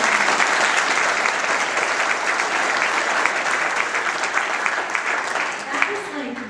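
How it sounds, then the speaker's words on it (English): An audience gives Matt another round of applause after his story: a full, even roar of many people clapping that holds steady throughout and tapers a little toward the end. "I just want to give you another round of applause, Matt"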